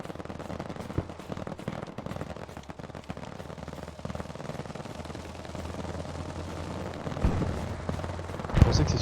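Gunfire crackles through a video game match, rapid bursts and scattered shots at middle distance, a louder crack near the end, with quiet talk over it.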